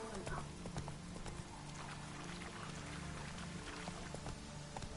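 Faint, steady hoofbeats of a trotting horse in The Witcher 3 patter along under game ambience with a light watery wash, quiet and continuous.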